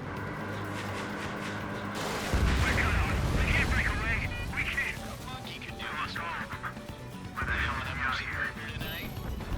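Aircraft guns roar in Ace Combat 7, with heavy rapid-fire bursts and impacts over a droning jet engine, loud and close, and game radio voices break in between the volleys.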